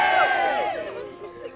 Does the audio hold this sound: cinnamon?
no